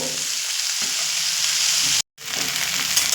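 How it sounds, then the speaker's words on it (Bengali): Taro stolons with prawns are stir-fried on high flame, giving a loud, continuous close sizzle with a brief cut to silence partway through. "এইবার হাই ফ্লেমে দু থেকে তিন মিনিট একটু নাড়াচাড়া করে নেব"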